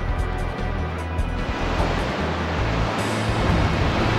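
Surf, a water attack in the Pokémon Stadium Gold and Silver video game, rushes as a loud, continuous broadband wash of crashing water for several seconds, with no talk over it.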